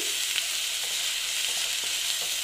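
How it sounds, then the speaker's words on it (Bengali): Chopped tomato and onion fry in a pan with a steady, dense sizzle and faint stirring scrapes, close and continuous throughout, with no talking. "এটা আমি একটু ভালো মতন ভেজে নিচ্ছি, যাতে পেঁয়াজের গন্ধটা চলে যায়"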